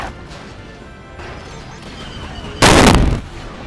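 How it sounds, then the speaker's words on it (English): Booming explosion in the Star Wars Battlefront Classic Collection video game, a sudden loud bass-heavy blast that erupts after a stretch of quieter game noise and rumbles on for about half a second before fading. "the mega bass boosted explosions that made me think I'd blown my speakers"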